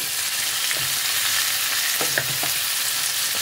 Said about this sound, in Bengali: এই সমস্ত জিনিসকে একসাথে করে ভালোভাবে একটু ফ্রাই করতে হবে।